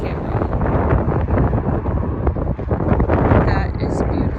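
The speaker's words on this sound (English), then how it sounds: "I don't know if you can hear me with the wind." Strong wind buffets the microphone outdoors on a very cold day, making a loud, steady roar that fills the whole stretch with no break.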